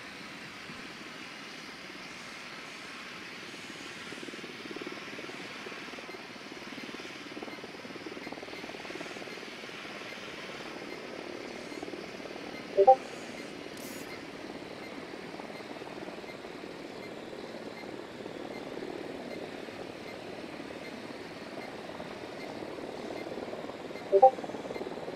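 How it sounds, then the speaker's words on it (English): A reconnaissance drone in Ghost Recon Wildlands flies with a soft, steady whirring engine drone held at an even, faint level, broken by two brief sharp clicks. "Drone is airborne."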